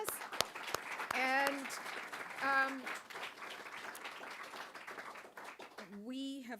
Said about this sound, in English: Let us give her one more round of applause.